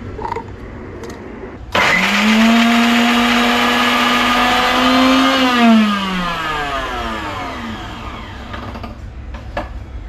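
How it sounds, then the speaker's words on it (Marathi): Mixer grinder blending byadgi chillies and coconut into masala, kicking in loudly after a quiet start and whirring steadily at a high pitch before winding down toward the end. "हांगा बेडगी मिरसांग घेतला नारळ घेतला लायक करून मिक्सराक घालता आणि फटाफट हे मसालो रेडी करता."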